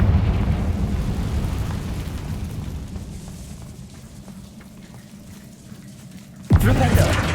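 A Confringo fire curse explosion in Hogwarts Legacy, a loud sudden boom bursting in near the end after a low rumbling stretch, with a voice calling out in the game.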